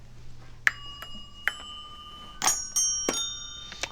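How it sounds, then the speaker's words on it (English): Several metallic East European doorbell chimes, built into a studio instrument, struck one after another at uneven intervals, each ringing out with bright overlapping tones close by; no voices. "The next instrument I'm building is from a collection of East European doorbells."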